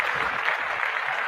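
Clapping from a few people, continuous and close, with a light cheer or voice mixed in near the end.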